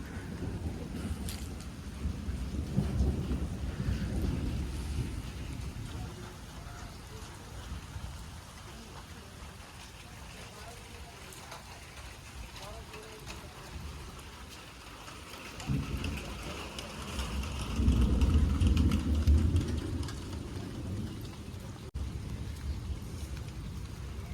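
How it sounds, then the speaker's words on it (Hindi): Low rumbling thunder rolls in long waves under a steady wash of rain in the mountains near Kedarnath, swelling twice and then fading back into the downpour. "और बादल गरज रहे हैं। मौसम बहुत ही भयंकर।"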